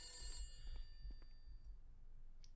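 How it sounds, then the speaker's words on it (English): A telephone rings in a house in The Beast Inside horror video game, faint high bell tones over low rumbling room sound, with no talk. "Okay, fine, let's answer the phone."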